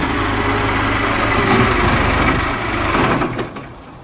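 A steady tractor engine drones at close range with a low rumble and some rattling, easing off slightly toward the end.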